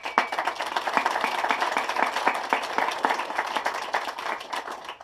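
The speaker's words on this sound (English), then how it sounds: "So give them a round of applause." Audience applauding outdoors at the grand opening of a recreation-area trail, a steady patter of many hands clapping at moderate distance, sustained throughout.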